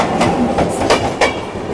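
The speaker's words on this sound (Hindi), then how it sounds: "कोई ट्रेन आ रही सामने से, कौन सी ट्रेन है?" The Odisha Sampark Kranti Express rushes past close by, with loud rolling rumble and a few sharp rhythmic clacks of wheels over rail joints in a short burst.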